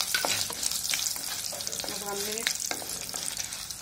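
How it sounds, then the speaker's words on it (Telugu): Fenugreek seeds, coriander seeds, dry red chillies and tamarind sizzle in hot oil in a pan, a steady close frying hiss with occasional stirring scrapes and a few brief words spoken. "మెంతులు, ధనియా, ఎండుమిర్చి బాగా మంచిగా ఫ్రై అయిపోయినాయండి"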